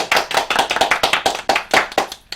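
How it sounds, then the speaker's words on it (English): A crowd of podcast hosts and guests clap their hands in steady, fast applause for about two seconds, loud and close, with no talking over it. "Everybody, clap your hands!"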